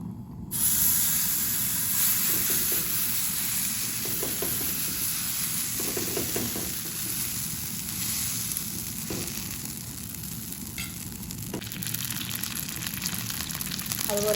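Poha batter sizzles steadily in an oiled pan, a continuous close frying hiss with faint crackles and a few soft scraping taps, no talking.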